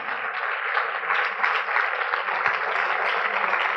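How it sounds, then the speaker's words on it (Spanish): A church congregation gathered in an auditorium applauds in praise, a continuous, somewhat muffled wash of many clapping hands that holds steady throughout. "denle un aplauso al Señor"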